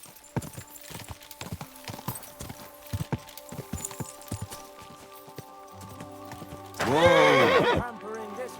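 A horse in the video game Kingdom Come Deliverance 2 clops along with scattered hoof beats, then gives a loud, close, wavering neigh near the end.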